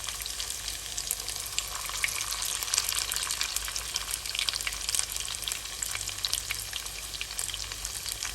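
Small fish fry in hot oil in a pan, giving a continuous bright crackling sizzle, steady and close, with no voices.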